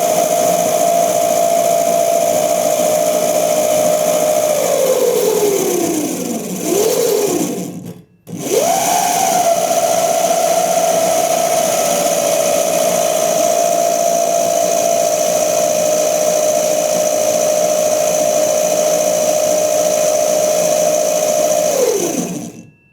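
A Sotion Crazy Cart XL electric motor whines steadily, its pitch falling as it slows, dropping out briefly, then rising again and holding a steady tone while it runs in reverse before winding down at the end. It runs alone, loud and close.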